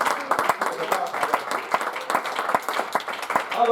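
A church congregation applauds together, a steady wash of clapping with crowd voices mixed in throughout.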